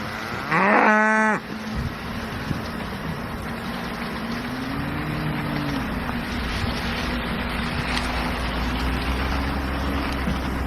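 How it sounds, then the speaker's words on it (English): A single deep moo comes from an Angus cow in a muddy farm herd near the feeders, loud and fairly close. After it, a steady outdoor rumble of wind and distant engine noise continues. "there's so much mud and muck around the cows' feeders, the troughs of the big cows, the Angus herd"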